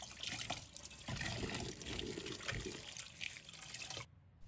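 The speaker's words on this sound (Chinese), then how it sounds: "把刮好皮的丝瓜放在水龙头下，让清水缓缓冲洗，冲去残留的碎屑。" Tap water runs steadily over a peeled luffa gourd under a kitchen faucet, a continuous close splashing rinse that stops abruptly near the end.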